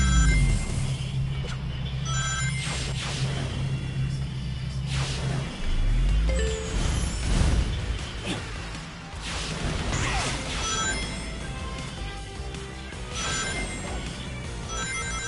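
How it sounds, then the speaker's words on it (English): An incoming-call phone ringtone chimes through loud, busy Sonic x Shadow Generations game audio, repeating tonal notes mixed with crashes and whooshes from the game. "Yes, that is my dad's ringtone,"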